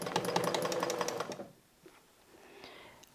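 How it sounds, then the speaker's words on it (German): A sewing machine stitches in place three times while quilting a bamboo patchwork block: a fast, close mechanical rattle lasting over a second, then a quiet stretch with faint handling noises. "hier vernähen wir jetzt dreimal auf der Stelle"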